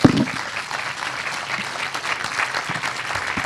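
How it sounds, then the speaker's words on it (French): A room full of people at a regional awards ceremony claps steadily, a sustained burst of applause at moderate volume with no talking. "On peut quand même les applaudir."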